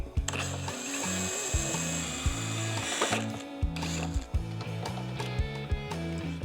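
A T25 driver works screws out of a Harley-Davidson Road Glide windshield bracket, three screws per bracket, making steady rhythmic mechanical ratcheting clicks, loud and close, repeating in short bursts with no talking.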